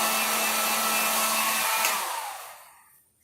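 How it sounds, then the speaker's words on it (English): A heat gun blows a steady, loud whooshing roar while drying paint on a craft firework block, then the airflow winds down and fades near the end. "So, I have this handy dandy heat gun,"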